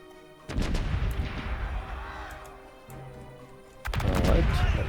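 Ship cannons firing canister shot in the Corsairs Legacy naval game: a few deep booming blasts with rumbling decay, separated by brief gaps, one heavy volley at the start and another near the end.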